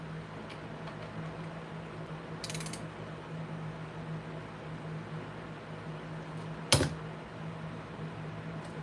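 Small mechanical clicks and a brief ratcheting burst from an acoustic guitar's tuning peg being turned to tighten a string, quiet and close over a steady low hum, with one sharper click near the end.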